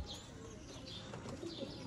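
Golden pigeons coo softly amid faint chirps, a low, quiet murmur against a hushed background with no voices.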